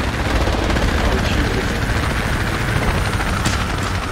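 A helicopter in the military game Project Reality, a dense, loud rotor thrum filling the scene continuously, with gunfire mixed in.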